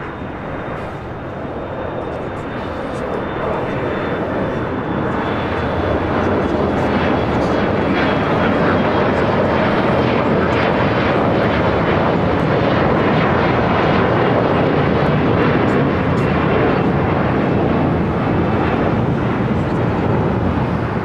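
An American Eagle SkyWest Embraer E175 LR jet takes off from the south side at LAX, bound for Denver, with a loud, steady broadband engine roar that swells slightly early on and holds strong throughout.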